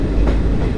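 A Kollam-Chennai Mail express train rolls along the rails near the Tamil Nadu-Kerala border, a loud, close rumble of wheels and carriages over a brief moment, with no talk.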